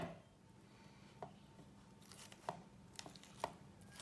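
A fork mashes boiled potatoes in quick, faint, irregular squishing taps that come close together.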